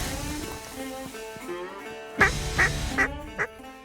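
During a duck hunt in foggy Washington wetlands, ducks quack in a run of four sharp, evenly spaced calls nearby, following a stretch of softer, tonal calling in the background.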